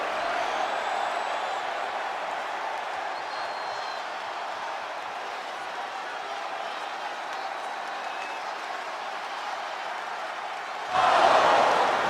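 Steady roar of cheering and applause from a packed WWE 2K25 wrestling game arena, holding even throughout before swelling louder in a final burst.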